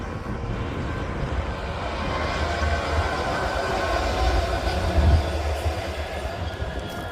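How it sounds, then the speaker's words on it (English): A train passing near the Ribblehead viaduct in the Yorkshire Dales sounds as a continuous distant rumble and rolling roar that swells slightly and then holds steady, heard outdoors with no talking. "So the train."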